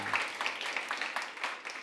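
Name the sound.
congregation applauding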